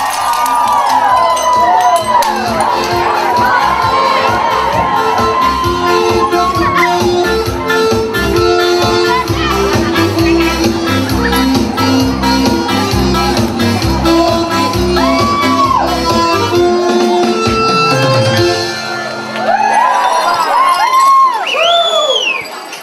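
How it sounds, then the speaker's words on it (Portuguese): A large crowd shouts, whoops and cheers loudly and continuously during the crockery-smashing custom at a Pomeranian wedding, with the noise dropping briefly before flaring again near the end. "os gritos e o barulho que se segue afugentam os maus espíritos e os cacos trazem sorte para o novo casal"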